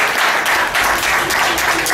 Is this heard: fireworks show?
no